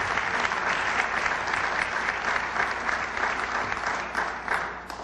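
An induction ceremony audience at the Chicago LGBT Hall of Fame breaks into a sustained round of applause, dense and steady clapping filling the hall, tapering slightly at the end.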